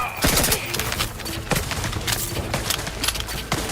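Bursts of automatic machine gun fire crackle in the sci-fi shooter The Outer Worlds 2, loud and close, with repeated sharp shots and short gaps between volleys.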